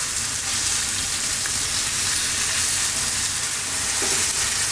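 Steady loud sizzling of bell pepper and shrimp stir frying in a hot pan, a continuous crackling hiss with faint scraping from stirring.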